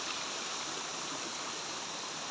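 A river stream rushes down a mountain slope, a steady, full broadband roar of flowing water, close and continuous with no voices over it.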